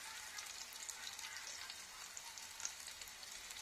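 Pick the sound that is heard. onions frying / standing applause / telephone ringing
onions frying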